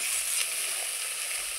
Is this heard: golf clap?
no